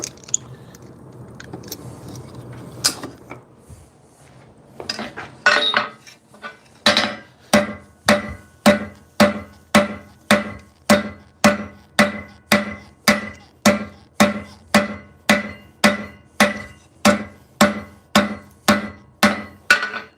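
A hammer forges shuko claw teeth on metal. A few scattered knocks come first, then a long, even run of sharp, ringing blows, about two per second and loud up close.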